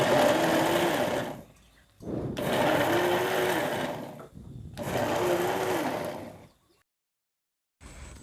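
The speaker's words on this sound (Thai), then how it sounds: "แล้วเราจะปั่นจังหวะสั้นๆ ทีๆ เพื่อที่จะให้พริกละเอียดเป็นท่อนเล็กๆ นะคะ" A kitchen blender pulses chilies for boat noodle soup seasoning in three loud bursts of a few seconds each, separated by short pauses, with the motor whining up and winding down each time.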